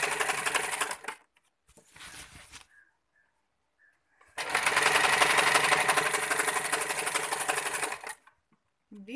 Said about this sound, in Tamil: அதெல்லாம் இப்போ தைச்சிக்கிட்டு இருக்கோம்.